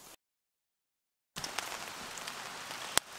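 Rain falls at night over a solo campsite with a canvas tarp and log shelter, beginning after a stretch of silence as a steady hiss with a few sharp drips and one louder tap.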